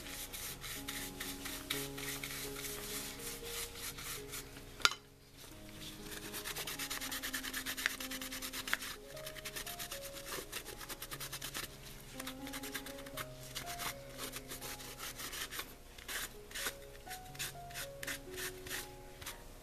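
A brush rubs glaze off a painted basket, steady scratchy scrubbing strokes close up and fairly faint, running under soft background music with a brief pause partway through.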